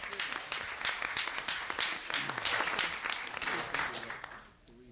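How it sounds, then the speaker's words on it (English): A city council chamber audience applauds a teacher and young people: dense clapping from many hands for several seconds, swelling slightly and then fading off at the end. "Let's give our teacher and our young people another round of applause."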